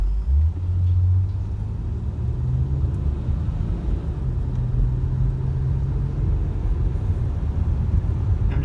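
Nissan Maxima engine after a 100,000-mile tune-up with new spark plugs and valve cover gaskets, pulling smoothly under light throttle while driving; a loud, steady low rumble from inside the car that rises slightly in pitch, with no talking.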